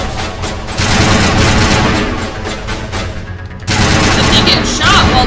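Gunfire in the Mass Effect video game: dense rapid bursts of shots roll on for several seconds, pause briefly, then resume loudly with a few electronic whines.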